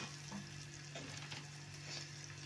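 Tomato, onion and garlic masala with turmeric and coriander powder fries in a pan, a steady close sizzle with occasional stirring scrapes and no talk.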